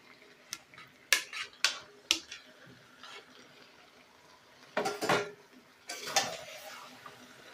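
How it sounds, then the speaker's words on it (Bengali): Marinated chicken is tipped into spice masala in a pan, heard as scattered ticks and clatters of a utensil, then heavier bursts of scraping and tumbling pieces near the end. "এই চিকেনটা কিন্তু আমি পুরোটাই দিয়ে দেব মশলার মধ্যে"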